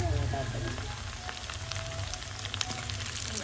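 Onion frying in a pan for chicken curry, a dense continuous sizzle and crackle up close, loud and steady throughout, with no voices.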